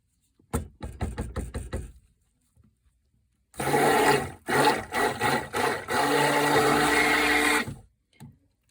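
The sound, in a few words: stick blender blending coffee soap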